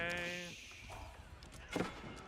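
A sheep in the Age of Empires video game lets out a single harmonic bleat at the start, followed by quieter game sounds and a brief burst later.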